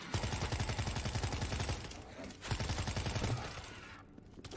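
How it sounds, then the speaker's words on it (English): Rapid automatic gunfire in World War Z, two long rattling bursts of closely spaced shots separated by a brief pause, loud and close. "I shot the guy at the brick"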